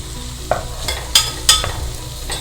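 Carrot, beans and cabbage being stirred in butter in a pot for vegetable soup, with a few sharp spoon scrapes and clacks over a soft, steady sizzle, close and alone.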